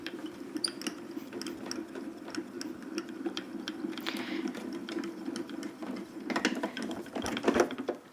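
A die-cutting machine cranks coconut white card through cutting mats and boards with a lace panel die, giving a steady mechanical rumble with small ratcheting clicks that swells louder near the end.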